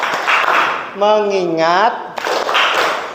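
A classroom clap routine called tepuk fokus, made of short bursts of rhythmic hand claps on either side of a spoken word from a teacher.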